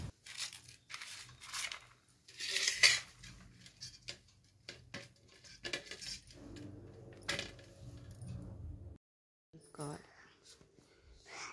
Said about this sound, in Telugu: కస్టర్డ్ పౌడర్ ఉండలు లేకుండా ఇలా బాగా కలపాలి